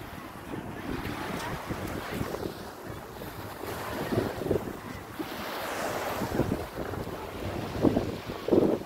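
Sea waves wash and surge continuously at a beach resort in Dammam, with heavy wind buffeting the microphone, a rough outdoor roar by the water.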